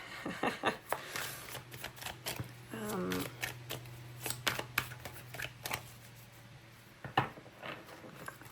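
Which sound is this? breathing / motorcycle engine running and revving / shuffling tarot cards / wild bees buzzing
shuffling tarot cards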